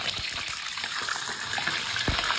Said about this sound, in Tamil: ஒரு சட்டியில் எண்ணெய் ஊற்றி சூடு ஏற்றி வச்சுருக்கேன். இப்போ அதில் 2 அவிச்ச மீனை பொரிச்சுக்கிறேன்.